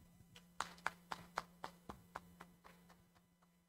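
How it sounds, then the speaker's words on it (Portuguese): A small group at a solemn municipal council session gives a round of applause, a dozen or so distinct, evenly spaced claps over a steady low electrical hum, fading toward the end. "Uma salva de palmas"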